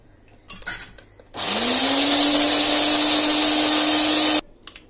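A mixer grinder blends homemade curd with green chilies for a fasting-day cutlet, one loud, steady, close motor whir lasting about three seconds, with faint kitchen handling sounds before and after.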